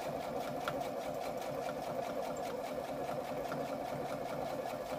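A sewing machine stitches fabric in a steady, continuous mechanical whir, close and even throughout with no talking.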